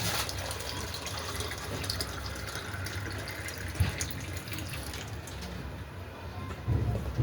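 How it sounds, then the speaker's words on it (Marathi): A steady trickle of water poured close by into flour for puran poli dough, continuous with faint splashing and a couple of soft knocks. "थोडं थोडं पाणी घालून आपण मळून घेऊया पीठ"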